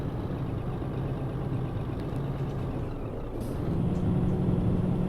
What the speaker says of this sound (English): There's that noise again. I know what that is. I know what that is. That's auto retarder.